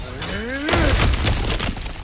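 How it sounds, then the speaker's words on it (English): A breakable obstacle over cracked ground shatters in God of War Ragnarok, one loud crunching smash with debris rattling and crumbling for a second after, backed by a swelling game score. "back to smashing through things for fun and profit"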